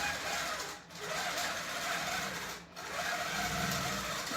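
A quilting machine stitches a quilt by itself, a steady close mechanical whir that dips briefly twice, with no voices over it.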